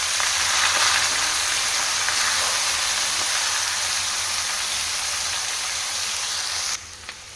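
Steady, loud sizzling of broad beans frying in hot oil with turmeric, continuous without pause, then suddenly quieter near the end.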